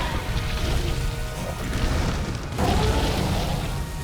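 Red pools on the ground burst in Monster Hunter World: Iceborne, a dense, loud roaring blast of noise that swells again midway, with no voices over it.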